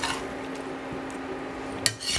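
A spatula or spoon scrapes and pushes a fish mixture around a cooking pan, spreading it out with soft, steady scraping and a brief louder clatter near the end, no voices present.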